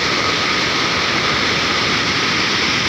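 Floodwater pours over Kallinmudiville waterfall in a continuous, loud, dense roar that does not change and has no break or voice.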